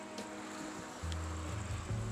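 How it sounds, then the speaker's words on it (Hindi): An electric water pump runs in a homemade desi air cooler, pushing water up to fill the top tray, a steady low churning hum with a watery rush that grows louder after the first second. "तो जैसे ही हम लोग पंप को ऑन करेंगे, यहाँ से आप देखिएगा कि पानी ऊपर भरना शुरू हो गया है"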